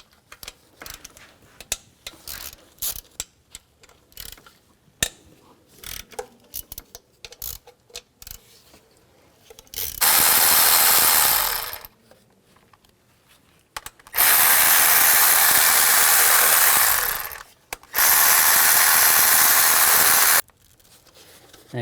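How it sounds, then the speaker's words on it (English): Socket ratchet with a 12mm socket turning out nuts and bolts on a 2003-08 Nissan Maxima engine, giving scattered close clicks, then three long steady whirring bursts of rapid ratcheting. "Use a 12mm socket, take these 2 nuts out and the rest of the bolts."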